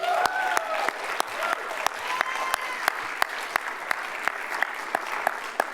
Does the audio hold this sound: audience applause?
yes